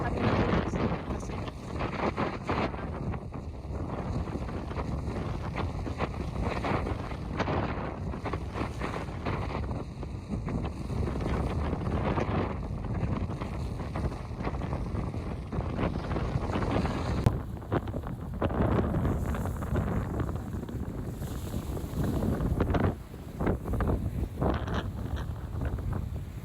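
Strong outdoor wind buffets the microphone on a cold day, roaring steadily and loudly throughout with gusty surges, masking almost everything else.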